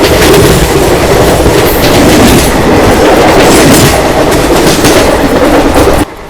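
The Goa Express train rushes past a small station with loud, steady rumbling and rhythmic clatter of wheels on rails, close and continuous until an abrupt drop in level near the end.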